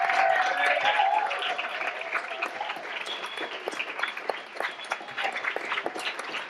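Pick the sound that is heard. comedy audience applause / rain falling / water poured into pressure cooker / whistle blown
comedy audience applause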